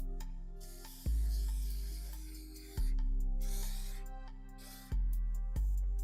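Short hissing bursts of Saphir Super Invulner waterproofing aerosol sprayed on suede loafers, three or four in a row, each starting sharply then tapering, close by, with no talking.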